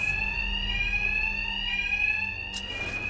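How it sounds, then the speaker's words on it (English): A shrill, continuous electronic alarm rings in the Batman Arkham Knight video game, steady and fairly loud, with a brief bright clatter near the end. "My attacks will be covered by the noise of the alarm."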